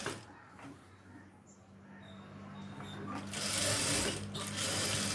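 A tailoring-class sewing machine runs in short bursts while stitching shorts, starting with a back-tack reinforcement pass; the motor hum and needle clatter rise louder toward the end, with a voice speaking over it.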